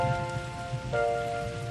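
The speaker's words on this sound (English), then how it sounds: "I'm glad it's raining" Steady rain falls in a soft, continuous hiss with faint sustained tonal hum underneath, moderately quiet and unbroken, no voices present.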